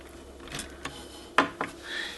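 A plug is pulled from the socket of a NuTone IM806 radio intercom master station, giving a few close, sharp plastic clicks and scrapes in quick succession with nothing else going on.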